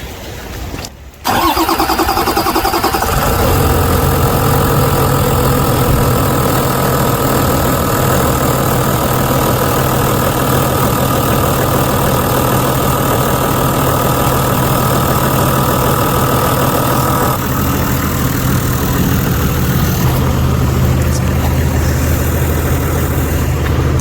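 Toyota Land Cruiser engine after fuel filter work cranks and catches within a second, then settles into a steady, loud, close idle with a low rumble for the rest, shifting slightly in tone near the end.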